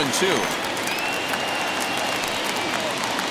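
A baseball stadium crowd of about 22,000 rises, cheering and applauding in a sustained, distant roar, with a voice talking faintly over it.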